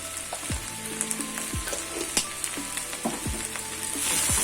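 Vegetable stew with turnip simmering in a granite cooking pot, salt being stirred in: steady close frying sizzle with repeated scraping strokes of a spoon against the pot, no talking.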